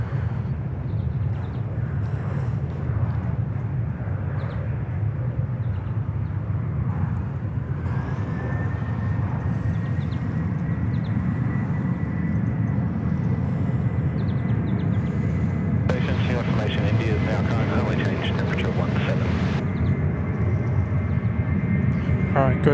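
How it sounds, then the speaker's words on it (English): A Qantas airliner rolling for takeoff from Sydney Airport runway 34 right, a steady low jet engine roar holding throughout, with someone talking over it. "All right, Qantas 141, about to head off across the Dutch,"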